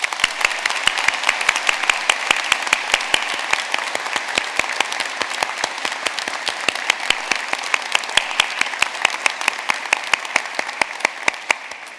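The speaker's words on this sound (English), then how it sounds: "I know that everybody will join me in a round of applause when I say congratulations" An audience at an Ulster University summer graduation ceremony in Belfast claps in sustained, loud applause, with many individual claps standing out sharply within a dense, even wash.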